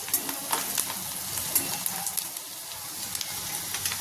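Gunda sambharo with coriander leaves sizzles steadily in a hot pan while being stirred, producing a constant bright frying crackle with light scraping from the mixing.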